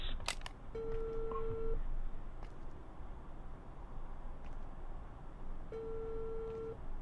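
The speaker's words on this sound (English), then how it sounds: "So Maestro is making phone calls" Telephone dialing tones as someone makes phone calls, a sustained electronic beep tone sounding twice several seconds apart over a constant background hum.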